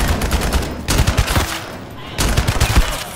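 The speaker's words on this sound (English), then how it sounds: "I'm gonna just shoot you" Rapid automatic gunfire in the shooter game The First Descendant, with loud sustained bursts broken by short pauses.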